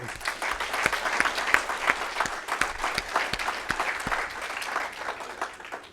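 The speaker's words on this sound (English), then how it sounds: "I want you to give yourselves a round of applause" An audience at a talk gives itself a round of applause, a lively mix of close sharp claps and general clapping that carries on for several seconds before tapering off.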